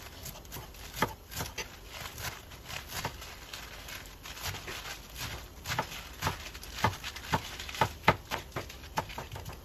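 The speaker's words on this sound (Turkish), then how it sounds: "Bahçeden topladığım ıspanakları yıkadım, temizledim. İnce olacak şekilde doğruyorum hepsini." Washed garden spinach being chopped thinly with a knife, a quiet, fairly steady series of soft taps on a cutting board, heard on its own.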